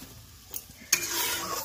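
Water mixed with mustard paste is poured into a hot pan for small hilsa in mustard sauce. Soft stirring is followed by a sudden loud hiss as the liquid hits, then a steady close sizzle.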